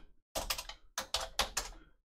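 Fingers tap on a computer keyboard in two quick bursts of clacking keystrokes separated by a brief gap, close and crisp with nothing else heard.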